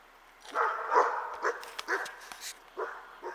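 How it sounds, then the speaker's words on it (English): Several dogs bark at a neighbour walking his own dog on a homestead, giving a string of fairly close, loud barks and yips spread across the moment, with no talk. "the dogs were barking"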